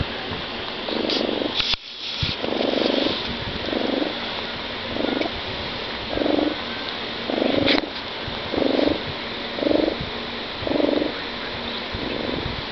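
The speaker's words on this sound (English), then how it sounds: "That noise you hear is Pewter purring" A cat purrs steadily in close, rhythmic pulses, each breath cycle rising and falling about once a second for the whole stretch, with a couple of brief bumps and no talking.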